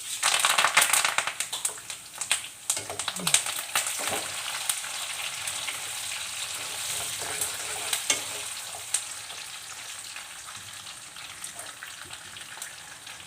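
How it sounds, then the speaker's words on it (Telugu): Garlic, cumin, curry leaves and other tempering spices sizzle in hot oil in a kadai, a loud crackling burst at first that settles into a steady frying hiss with occasional pops and stirring scrapes. "ఇక్కడ కళాయి పెట్టి ఆయిల్ వీటెక్కిన తర్వాత ఇందులో పోపు దినుసులు, ఎల్లుల్లిపాయలు, జీలకర్ర, కరివేపాకు,"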